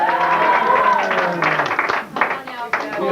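Lively clapping and cheering at a family reunion gathering, close and loud, mixed with overlapping voices and shouts as the crowd reacts.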